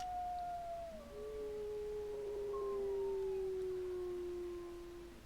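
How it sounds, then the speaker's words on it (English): A wolf howls in the video game WolfQuest, one long sustained tone that bends downward and holds steady, loud and clear over a faint background hum with no talk. "we are howling"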